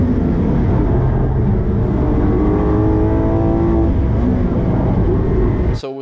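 Lamborghini Aventador SVJ engine roaring on a record lap, loud and close, its pitch climbing steadily under acceleration before the sound cuts off abruptly near the end.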